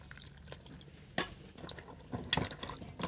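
Water runs and splashes softly as pieces of hilsa fish are washed in a kitchen, a faint trickle with a few sharper splashes and clinks against a bowl, no talking.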